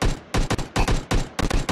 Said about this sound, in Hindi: थोड़ी थोड़ी गोलियां मार रहा है।